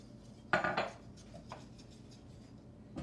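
A whisk clatters against a bowl while a child beats batter to remove lumps in a kitchen: a short burst of quick metallic scraping strokes, then a single fainter clink, fairly quiet.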